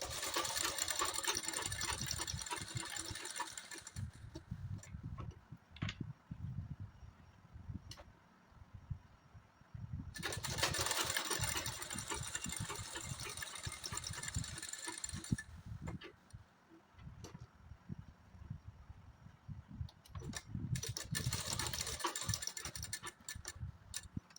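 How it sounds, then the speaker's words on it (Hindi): A sewing machine stitches a kurti in three long mechanical runs, a steady whirring rattle that stops and restarts with brief pauses between bursts. "इस तरीके से ले लेंगे और इसे स्टिच करते चले जाएंगे"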